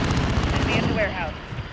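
Video game gunfire makes a dense, rumbling barrage of booming shots that continues over the whole short stretch, with a voice speaking over it.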